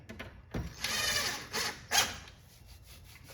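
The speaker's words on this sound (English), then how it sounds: "I'll just grind the head down a little bit." A power tool grinds down a screw head during an arcade control panel restoration, short whirring bursts with a high squeal, starting and stopping several times at close range.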